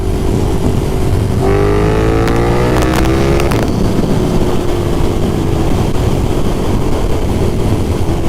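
A KTM 1290 Super Duke motorcycle engine rumbles loudly and close, rising in one quick rev for a couple of seconds before settling back to a steady, throbbing idle.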